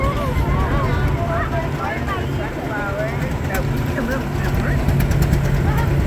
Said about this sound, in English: I think the guy driving the tractor is Malachi.